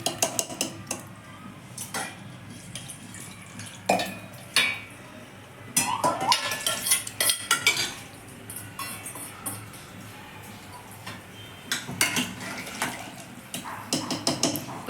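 A spoon scrapes and clinks against a metal pot as vaghareli khichdi is stirred, in uneven bursts of close, rattling knocks spread through the stretch, with no one talking.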